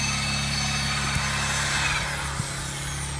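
A power drill with a fresh, sharp bit bores into a western linden in a park avenue, a steady motor whine running throughout with a few brief knocks, close and alone.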